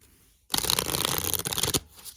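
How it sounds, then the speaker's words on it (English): A deck of oracle cards is shuffled: one dense, crisp riffle of flapping card edges that lasts about a second and a half, close and loud, with no talk over it. "I'm gonna give these a good shuffle"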